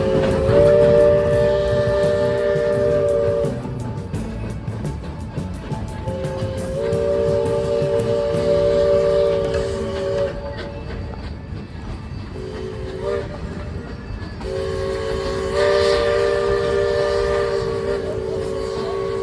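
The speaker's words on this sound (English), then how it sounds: "it's kind of timed with the chugs of the engine" The Georgetown Loop Railroad steam engine sounds its whistle in long tonal blasts over the rumble of moving rail cars, loud and close, with chugging and clatter throughout.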